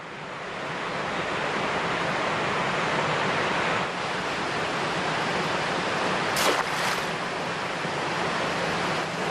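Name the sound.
Tera river flowing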